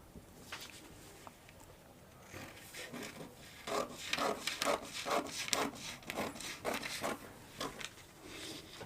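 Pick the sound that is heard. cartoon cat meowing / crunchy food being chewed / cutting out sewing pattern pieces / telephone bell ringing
cutting out sewing pattern pieces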